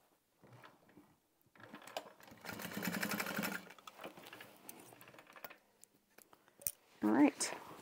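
A sewing machine basting a D-ring onto a tote bag runs in a few short bursts, with quiet handling noise and a voice talking in between.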